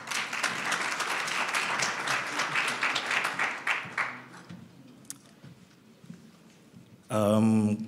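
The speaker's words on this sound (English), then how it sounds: "Let's give a round of applause to him." A conference audience claps at a talk on African digital advancement, a fairly close burst of applause that fades out after about four seconds, followed by quiet and then a brief loud noise at the end.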